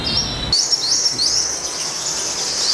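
Several five-colored yellow-bellied sunbirds give high, thin chirps and short rapid twittering notes close by, repeating quickly and clearly over a soft background hiss.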